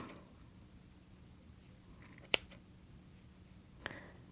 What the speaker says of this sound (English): So I'm going to take whatever lettuce loops I have and cut them.